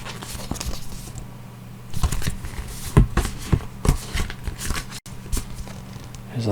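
Art cards from a 4K Blu-ray box set of The Third Man are handled close up, giving a run of crisp papery flicks, slides and taps at irregular intervals, with no talking.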